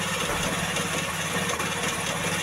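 Small petrol engine on a rice transplanter idles steadily after its carburetor has been adjusted, loud and close with an even, slightly rough vibrating drone and no talking.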